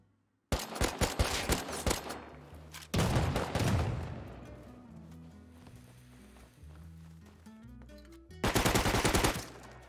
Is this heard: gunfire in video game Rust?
yes